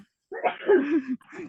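A single close, loud sneeze bursts out, followed a moment later by a shorter, softer breathy sound, with no talking.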